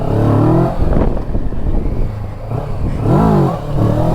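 A Kawasaki motorcycle engine revs hard as the bike lifts into a wheelie, loud and close, the pitch climbing and falling in two surges with a brief dip between.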